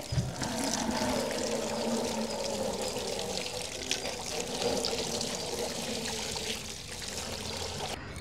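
Green chilies are rinsed under running tap water, a steady, moderately loud pour and trickle that continues evenly for about eight seconds with no talking.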